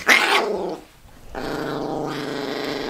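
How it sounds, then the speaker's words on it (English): Dogs growl and bark up close, a loud harsh burst followed by a brief pause and then sustained rumbling growls, with no talking. "Dogs are going crazy."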